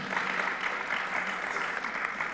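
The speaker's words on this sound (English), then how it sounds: "Give them a round of applause and" Conference audience applauding a panel at the close of a session, a steady, dense wash of clapping from many hands that holds evenly throughout.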